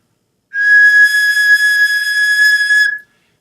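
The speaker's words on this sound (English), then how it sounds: "I took a recorder mouthpiece, and I tried to kind of mimic the design of this and created this 3D whistle here." A 3D printed whistle modeled on a recorder mouthpiece sounds one steady, clear high tone with slight breathiness, held loud for about two and a half seconds before stopping cleanly.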